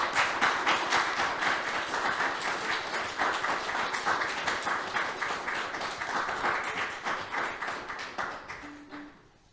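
Audience applause welcoming poet John Barton at a poetry magazine spring launch, steady clapping from a roomful of people that carries on for several seconds and then tapers off.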